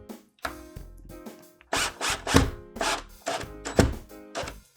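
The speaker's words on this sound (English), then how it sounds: "So they're drywall screws, they're longer, they're shorter, but we're just gonna screw this thing down." Drywall screws driven into wood with a power drill on a model railway layout top, bursts of whirring motor and gritty bite into the board, several separate drives with short pauses between, close and fairly quiet.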